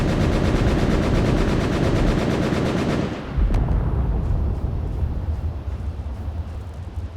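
Game combat in Space Engineers: a dense, loud barrage of rapid gunfire and blasts roars for about three seconds, then cuts to a deep rumbling boom that fades into a lower, lingering roll of distant explosions.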